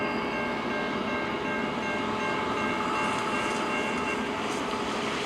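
A CN eastbound freight train passing in Emmett, Michigan, a loud continuous rumble and rail roar with steady tonal lines, close by and without talk.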